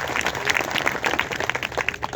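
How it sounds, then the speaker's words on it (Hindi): Audience applause for a little girl at a protest gathering in Bikaner, a dense, steady crowd of clapping hands throughout, fairly loud and sustained with no voices over it. "एक बार जोरदार तालियां बजाओ इसे नैनी बिटिया के"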